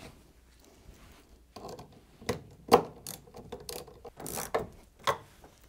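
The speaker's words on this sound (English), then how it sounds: "refit the chassis bracket using the 3 10mm bolts" Bolts going into the chassis bracket of a Samsung fridge freezer, heard as a close series of irregular mechanical clicks and ratcheting taps, a few of them louder, with quiet gaps between them and no talk.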